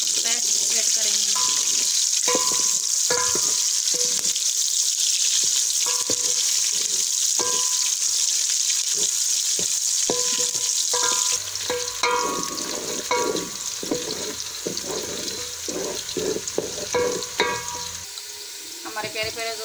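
Chopped onions fry in hot oil in a home kitchen pan, a steady bright sizzle running throughout with occasional stirring scrapes and clatter, louder and busier in the second half.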